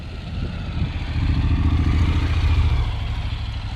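A motorcycle engine runs steadily at mid revs, rising slightly and then holding, with a rough rumbling tone and no talking.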